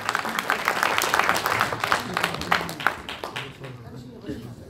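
Audience at a football association president's inauguration and football night in Ansan applauding an appointment; a lively crowd clapping with sharp individual claps and chatter, tapering off toward the end.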